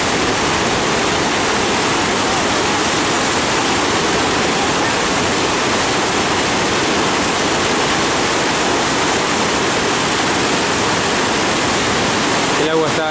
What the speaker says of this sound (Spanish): El agua está arrastrando todo tipo de objetos, bidones, hemos visto pasar lavarropas, heladeras, todo tipo de tamaños de troncos.